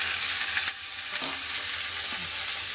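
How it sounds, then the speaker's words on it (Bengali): Sliced okra frying in hot mustard oil in a home kitchen gives a steady, close, hissing sizzle throughout, with a few soft stirring scrapes and no talk. "তেল গরম হয়ে গেছে, আর কেটে রাখা ঢেঁড়স দিয়ে দেবো।"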